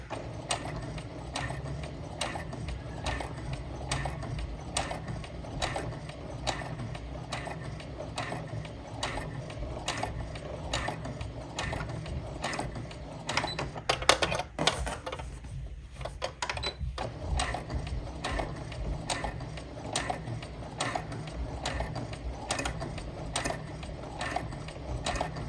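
A sewing machine stitches fabric for a dinosaur apron, a steady rapid mechanical chatter of needle and feed dogs repeating evenly at close range, with a brief pause partway through.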